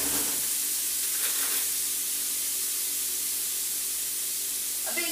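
Frozen whole pearl onions hit a hot pan of Cornish hens cooking in wine, giving a steady, close sizzle and hiss that holds evenly throughout, with a brief rattle as they land.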